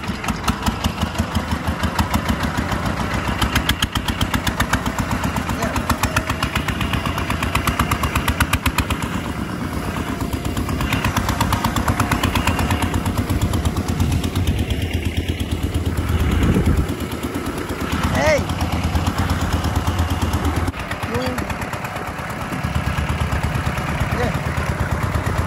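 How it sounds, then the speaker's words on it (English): A tractor engine starts outdoors in the Philippines and then runs with a rough, rapid mechanical chatter that stays continuous and fairly loud throughout, with brief voices mixed in. "Now they are starting the tractor."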